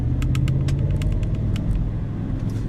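A 2017 GMC Yukon Denali's 6.2-liter V8 rumbles steadily at close range, a deep continuous grumble with faint ticking clicks on top and no voices.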